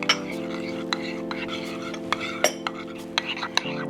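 A spoon stirs tuna tartare with parsley in a bowl, small clinks and soft scraping taps against the bowl, close and irregular over a steady background hum, no talking heard.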